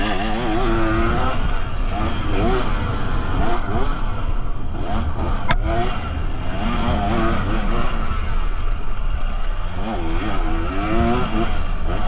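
A KTM XCW 300 two-stroke dirt bike revs high and hard on a trail ride, its engine note rising and falling continuously, loud and close from the rider's position.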